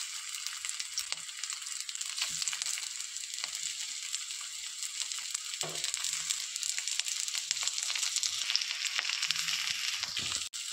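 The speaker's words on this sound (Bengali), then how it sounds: "এটাকে আমি কিছুক্ষণ ভেজে নিব।" Fish cutlets fry in hot oil in a wok with a steady, bright sizzling hiss, broken by a few soft bumps and shifts as the pieces settle.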